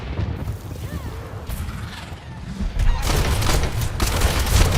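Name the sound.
Diablo III strafing skill gunfire, from a video game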